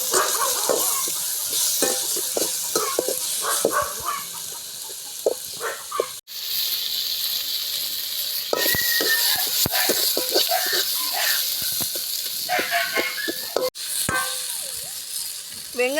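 Onions and tomatoes sauté in a pan for a fish curry, a steady close sizzle running throughout with scattered stirring scrapes and two brief dropouts midway.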